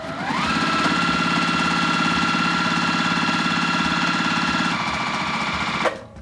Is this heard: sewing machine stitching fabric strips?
yes